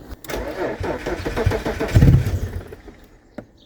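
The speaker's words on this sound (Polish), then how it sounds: "Wydech w BMC jest skończony i zaraz ją odpalamy." An engine cranks and catches, rumbling loudly for a couple of seconds before fading, with a sharp click near the end.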